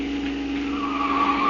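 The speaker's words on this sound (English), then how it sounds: "You turn that corner on 2 wheels." A car's tires skid and squeal as it takes a corner hard on two wheels, a steady sustained screech with a rising whine over engine noise, loud and close throughout.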